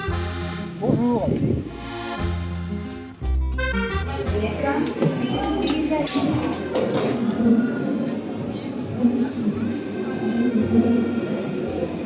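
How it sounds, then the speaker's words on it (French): A Paris metro train arrives and runs, with squealing wheels, a rising motor whine and a sliding door, then a steady rumbling ride with a sustained high tone; voices talk over parts of it. "là, on se retrouve dans le métro"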